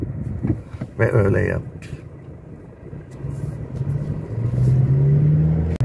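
A car turns left and passes close by on a rural road near Söke, Turkey. Its engine swells from a low rumble to a loud, rising drone near the end, after someone speaks briefly at the start.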